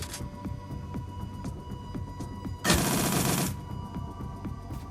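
A burst of full-auto gunfire in the turn-based game Shadowrun: Dragonfall, a dense, loud rattle lasting under a second that stands out above a low humming, ticking game soundtrack.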